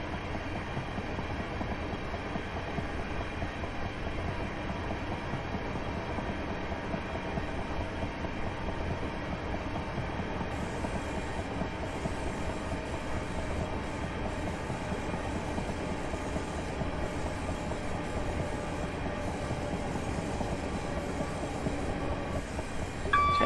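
A Class 375 electric train in Train Simulator 2018 rolls steadily on the line between London Victoria and Ramsgate, giving a constant rumbling hum with faint rail noise throughout and no talk.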